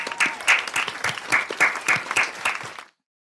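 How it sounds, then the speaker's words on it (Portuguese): Applause at the MR Cast podcast's 100th episode celebration: a small group claps briskly and close by for nearly three seconds, then stops abruptly into silence. "Uma salva de palmas"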